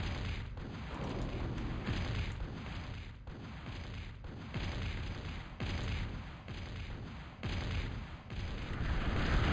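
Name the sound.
leveler unit firing in a strategy video game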